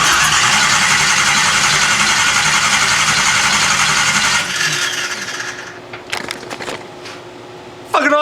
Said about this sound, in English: it doesn't start, but that thing sounds fucking damn good for cranking